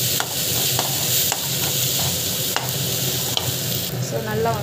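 Turmeric and coriander powder sauté in a pan with a continuous close sizzle, broken by repeated scraping strokes of a spatula at an uneven rhythm, with no talking.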